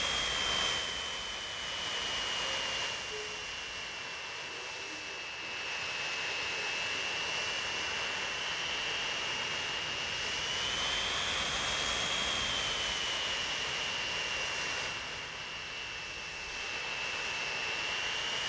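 Jet aircraft engine in the video game Transport Fever 2, a steady loud roaring whine with a high sustained tone that rises and falls slightly, continuous for the whole stretch with no talking.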